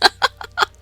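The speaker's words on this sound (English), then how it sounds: "Baby chickens? Looking around, I noticed that a clutch of fluffy yellow chicks had appeared." Fluffy yellow baby chicks in the video game Norn9 give four short, bright peeping calls in an even rhythm, close and fairly loud, with no talking.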